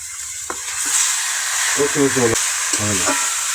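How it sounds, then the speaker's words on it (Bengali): Marinated chicken sizzles and fries in a little oil and spice. A steady frying hiss runs throughout, and a few short bursts of stirring or a voice-like sound are heard close by. "মাংসটা এখন কষছি"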